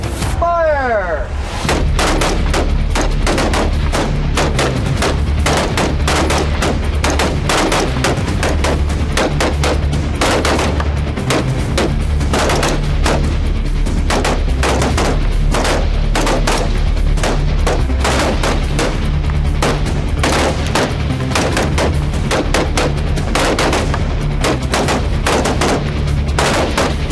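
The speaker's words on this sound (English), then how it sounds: "Line is set, ready, fire!" Rifles fire in rapid succession from a firing line at a training range, a dense volley of loud, sharp cracks running almost continuously with overlapping reports and echoes.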